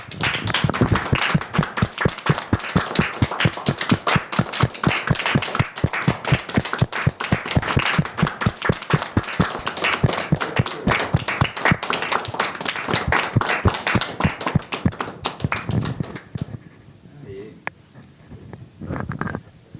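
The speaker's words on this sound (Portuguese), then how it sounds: "Palmas aí, pessoal, por todas as mães." An audience at a tribute to mothers claps in a steady rhythmic beat, loud and close, for about fifteen seconds before it trails off into scattered claps.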